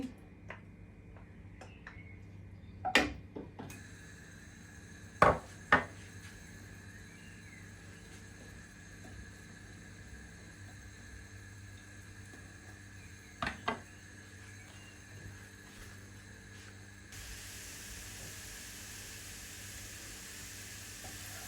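Grated garlic hits hot oil for a Bangladeshi raw papaya and hilsa fish curry, giving a faint, steady sizzle that swells louder toward the end, broken by a few sharp clicks and taps of the pan.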